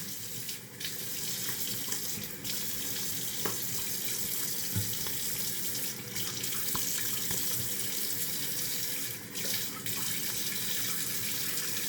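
Tap water runs steadily into a sink for face washing after a razor shave, a constant close hiss with faint splashes and small clinks underneath.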